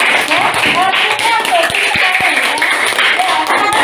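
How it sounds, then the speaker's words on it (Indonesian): A classroom of students claps for group 1, a lively dense burst of hands with a few sharper slaps, voices chattering throughout. "Tepuk tangan untuk kelompok 1."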